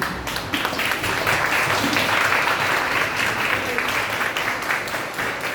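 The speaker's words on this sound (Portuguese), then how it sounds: "Você pode aplaudir pela vida da pessoa que está do seu lado." Church congregation at a Bible study gathering applauding, a loud, sustained burst of many hands clapping together that stays steady from start to finish, with faint voices beneath.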